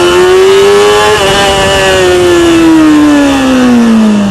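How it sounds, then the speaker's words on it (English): A motorcycle pulling away hard in first gear for a wheelie makes a loud, close engine note that rises briefly, then sags and drops steadily as it carries on, with no talk over it. "Take off first gear, open the throttle, front comes up"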